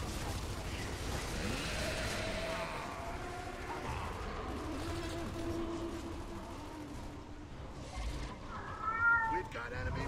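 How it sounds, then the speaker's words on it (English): A pet cat meows over the sounds of a Gears of War 3 match, with game effects and voices continuing around it and a short higher call near the end. "my cat, I guess, telling me how to use the bathroom"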